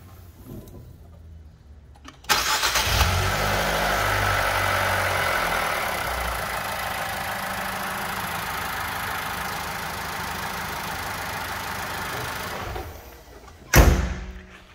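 Engine of an Infiniti QX50 Luxe idling just after start-up, a steady, fairly loud low rumble that holds for about eleven seconds before easing off, ending with a sharp thump like a door closing.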